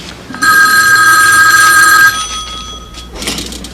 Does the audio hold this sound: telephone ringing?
yes